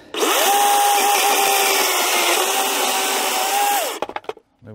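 A DeWALT FLEXVOLT cordless chainsaw runs loud and close, holding a steady high electric whine for about four seconds before winding down, with no voices.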